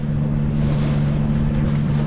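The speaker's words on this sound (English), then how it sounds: "Engine's at cruising speed, but you've got the staysail and the main up" Steady, close drone of a sailboat's engine motoring at cruising speed under staysail and mainsail, a constant low hum with wind and water rush layered on top, no voices.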